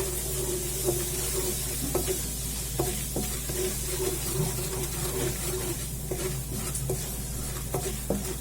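Turmeric powder stirred into hot oil in a pan for a restaurant-style malai kofta: a steady sizzle runs throughout, with repeated spoon scrapes and clinks against the pan at a regular pace and no talking.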